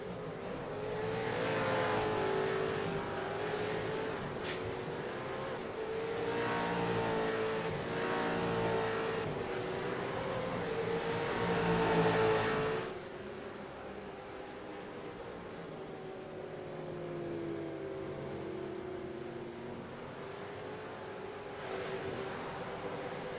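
V8 race cars circling Magny-Cours circuit in an East Coast V8 series race, with a sustained engine drone that swells and recedes for about twelve seconds before dropping to a quieter, more distant hum.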